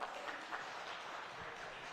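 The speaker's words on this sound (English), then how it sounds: "Big round of applause for all of them" Audience applause at a townhall event in Assam, a steady, fairly faint spread of clapping from a crowd, continuous for the whole short stretch with no voices on top.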